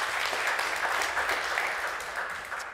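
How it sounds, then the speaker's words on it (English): An audience at an FBI talk in Las Vegas breaks into applause, a dense, even clatter of many hands clapping at once that holds steady for a few seconds and then tapers slightly. "So I think that deserves a round of applause for sure."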